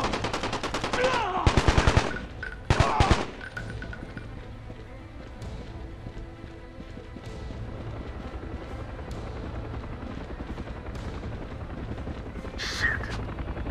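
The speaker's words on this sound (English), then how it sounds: "RPGs are attacking the chopper." Bursts of rapid automatic gunfire and explosions from RPG attacks on a helicopter at a landing zone in Call of Duty: Black Ops, followed by a lower battle din with a distant blast near the end.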